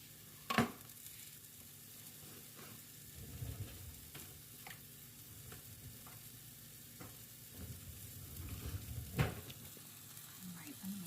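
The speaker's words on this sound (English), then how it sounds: "I'm going to try to break this sausage up a little bit and get it browning in the pan really good." Sausage broken up and browning in a pan for a grandmother's Christmas Eve sausage stuffing, with a soft steady sizzle, occasional stirring scrapes and a few sharp knocks of the utensil, all fairly quiet.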